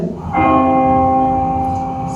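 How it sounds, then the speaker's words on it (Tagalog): A bell pulled during a church sermon gives one clear strike that rings on as a loud, sustained tone with rich overtones, slowly fading over about two seconds. "I will pull the bell."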